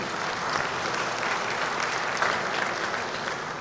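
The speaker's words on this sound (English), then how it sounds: "Give them a round of applause." Delegates at the CAADP agricultural summit of the African Union applaud, a dense, continuous round of clapping from a large hall audience, steady in level for several seconds.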